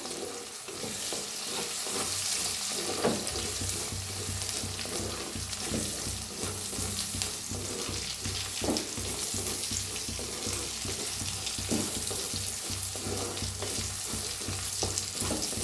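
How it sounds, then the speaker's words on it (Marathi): Chopped tomatoes added to browned onions sizzle in a frying pan, a steady moderate crackle with occasional scrapes of stirring, close and continuous with no talking. "आता त्याच्यातच टाकूया टमाटर टमाटरला बी चांगलं भाजून घेऊया"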